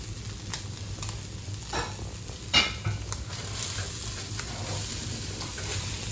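Carrots and beans are stirred into a pan of egg fried rice, a soft sizzle running under scattered scrapes and taps of a spatula against the pan, with no talking.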